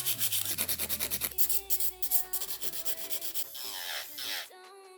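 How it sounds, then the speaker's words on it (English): A nail file rasps across encapsulated acrylic nails in quick rhythmic strokes, close and scratchy, with a pause and a few slower passes near the end, accompanied by faint background music. "So we'll jump on into the filing portion."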